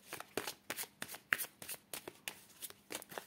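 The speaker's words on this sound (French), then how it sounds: "La coupe pour les tendances du week-end." Tarot cards being shuffled for a weekend reading, a rapid series of crisp riffling bursts close to the microphone, with no talking.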